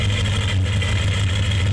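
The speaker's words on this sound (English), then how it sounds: "Idling up to the starting line with an American flagman, Corky Lou with the green flag in hand" Jet sprint boat engines idling toward the starting line at a motorsport event, a loud, steady, low engine drone throughout.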